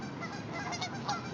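Geese honking along the Snake River in a loose, overlapping chorus, fairly loud and continuous, with several birds calling at once over outdoor background noise.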